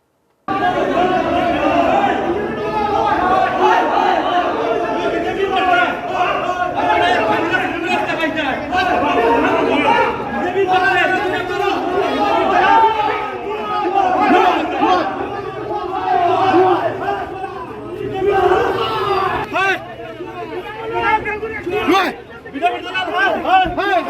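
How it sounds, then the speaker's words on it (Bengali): A crowd shouts slogans at the district Congress party office building, loud and continuous, with many voices chanting and yelling together in overlapping waves for the full length. "নানা স্লোগানে কংগ্রেস ভবন উত্তপ্ত হয়ে ওঠে"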